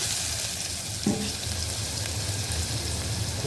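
Garlic and onion frying in hot oil with a pinch of asafoetida, a steady close sizzle with a brief stir or clink about a second in, no voices.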